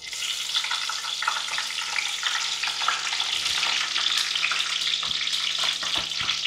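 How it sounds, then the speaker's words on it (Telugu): Tomatoes fry in a pan over a high flame for a tomato masala gravy, a dense, steady close sizzle with crackles and occasional stirring knocks, loud and continuous, with no voices. "ముందు టమాటాలు ఫ్రై చేస్తున్నాం."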